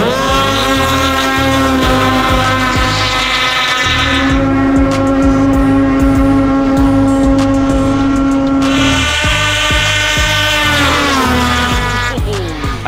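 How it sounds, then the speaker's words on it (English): An Indy VR1 850 snowmobile and a Polaris 600R race sled roar side by side in a drag race on a backyard snow track, with loud, close, high-revving engines and rising pitches through repeated shifts, and no talk. "This is the ultimate drag race when it comes to snowmobiles"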